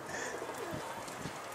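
A stray pigeon perched on a rooftop chimney gives a few soft, low coos close by, quiet against faint outdoor background noise.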